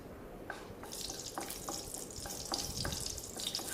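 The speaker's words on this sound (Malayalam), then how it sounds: "ഒരു 4 ഏലക്ക, ഒരു 5 കറാമ്പൂ, 2-3 പട്ട അതിട്ട് നന്നായിട്ട് അതൊന്ന് വഴറ്റി കൊടുക്കാം" Cardamom pods, cloves and cinnamon sticks sautéing in ghee and coconut oil, a faint, steady sizzle with scattered light clicks and taps from stirring, no voices.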